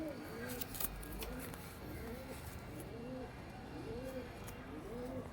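Pigeons on a stand near netting coo in repeated soft rolling phrases, several calls spaced through the stretch, quiet and close over a low background hiss.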